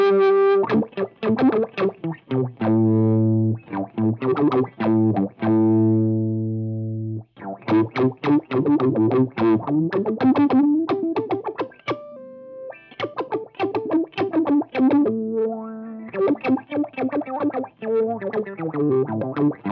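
Electric guitar through an Emma Discumbobulator envelope filter pedal, set to high sensitivity and picked hard, giving quacky, sweeping wah-like notes; loud bursts of chords and runs alternate with a few sustained low notes and brief gaps, with no voice.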